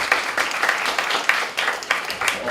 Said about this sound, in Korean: 우리 다시 한번 뜨거운 박수로